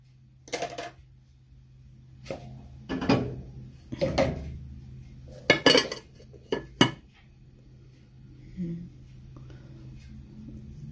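Metal baking pans clank and bang as sourdough bread goes into an oven, several sharp irregular knocks and scrapes over a low steady hum, with brief pauses between them.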